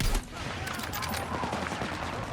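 Video game gunfire, dense continuous rattle of rapid shots filling the whole stretch, loud with no pauses.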